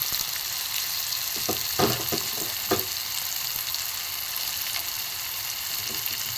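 Ground ginger, cumin, coriander, chili powder and chaat masala fry in hot oil as a spoon stirs them, giving a steady close sizzle broken by a few sharp scrapes and knocks against the pan, with no voices.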